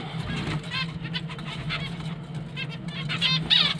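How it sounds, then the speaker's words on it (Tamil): Finches chirp in quick, bright bursts close by, near lovebirds, with rapid repeated calls scattered over a low background hum. "நம்ம பிஞ்சஸும் லவ் பேர்டும் பக்கத்துலேயே வரனால பிஞ்சஸ் சவுண்டு கொஞ்சம் அதிகமாக இருக்குது"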